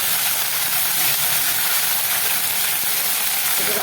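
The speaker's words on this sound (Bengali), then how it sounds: "হ্যাঁ সরষা রাঁধুনি ফোড়ন দিলাম" Mustard and radhuni seeds temper in hot oil for a Bengali fish curry, giving a loud, continuous, close sizzling hiss that holds steady throughout.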